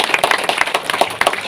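A church congregation applauds the parish choir at a community blessing, with dense, lively clapping close by and a faint murmur from the crowd.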